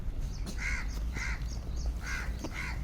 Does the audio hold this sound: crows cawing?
yes